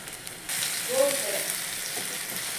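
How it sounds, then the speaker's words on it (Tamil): Chopped tomatoes, curry leaves and coriander are tipped into a hot pan and sauté. A sudden loud sizzle starts and then carries on steadily up close, with a brief scrape of stirring. "இப்போது கட் பண்ணி வச்சுருக்க தக்காளி, கருவேப்பிலை, கொத்தமல்லி எல்லாத்தையும் மொத்தமாக சேர்த்துட்டு நல்லா வதக்கணும்"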